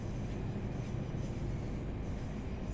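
White Class 375 trains passing in Train Sim World, a steady low rumbling rail roar with broadband rushing noise, continuous and fairly faint throughout.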